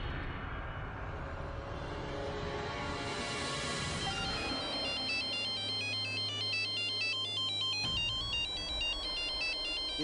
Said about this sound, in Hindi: इतनी रात को अननोन नंबर से कौन फोन कर रहा है?